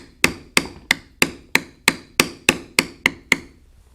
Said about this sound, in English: So here I will use the B702 checkered beveler.